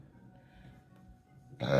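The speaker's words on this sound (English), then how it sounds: "Confirmation burp." A person lets out a short, loud burp near the end, after a stretch of quiet room tone.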